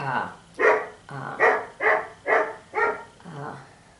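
A dog barks repeatedly in quick succession, about seven eager barks in a steady rhythm, close and fairly loud.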